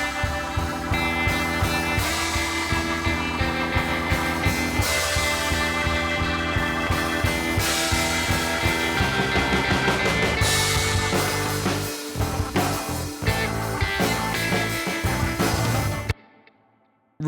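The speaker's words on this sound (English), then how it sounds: "The start of the song had a really cool build-up, just some cool major 7 chords" Song intro building on major seventh chords, with drums, organ and bass playing together in a full, steady band mix that runs unbroken before cutting off abruptly near the end.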